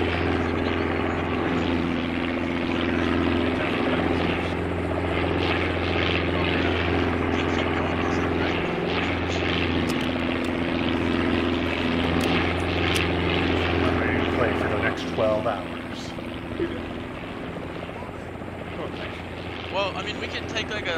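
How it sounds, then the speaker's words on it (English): A Huey helicopter in the Vietnam-era Arma 3 video game drones with a steady rotor and engine roar throughout, loud and continuous, with radio-style voices talking over it. "Friendly Huey to the south."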